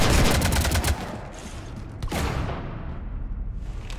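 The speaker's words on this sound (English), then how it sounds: "You want to stop shooting up my ship?" Rapid bursts of sci-fi gunfire hammer against a ship in the Mass Effect 3 video game, loud and dense at first, then a second volley with a sharp boom midway, continuing in steady rattling shots.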